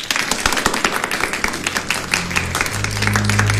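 A classroom of schoolgirls bursts into sustained applause, dense overlapping clapping at close range running the whole time, with a low steady hum rising in the final second.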